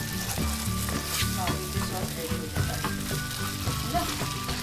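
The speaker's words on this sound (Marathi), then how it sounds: "ह्यात आपण वाटलेला मॅरिनेशन मसाला, पाव कप दही सगळं घालून 5 ते 10 मिनिटं मंद आचेवर ह्याला चांगलं मिक्स करून घ्यायचंय" Marinade masala and yogurt for a barbecue sauce sizzle steadily in a pan over low heat, a continuous close frying hiss with repeated stirring clatter throughout and no talk.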